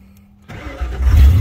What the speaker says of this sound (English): Grab the key. Turn it this way.